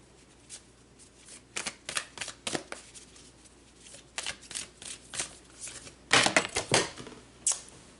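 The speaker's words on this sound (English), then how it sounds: "So let's pull some more cards." Tarot cards shuffled by hand, close and fairly loud: a run of irregular crisp riffles and slaps that bunch into denser bursts toward the end, with no voice over them.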